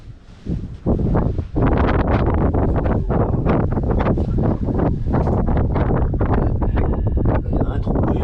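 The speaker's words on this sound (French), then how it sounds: "on repart avec du vent encore, avec des rafales, toujours la tempête" Strong gusty wind buffets the microphone at a bivouac campsite on the GR2 trail in Normandy during a storm, a loud continuous roar with repeated surging gusts throughout.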